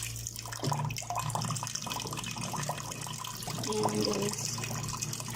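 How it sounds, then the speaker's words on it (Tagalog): Water poured into a cooking pot for rice, a continuous splashing, running flow heard close up, with a brief bit of talk near the start. "Lagyan natin ng tubig ang ating vessel kung saan tayo magluluto ng rice."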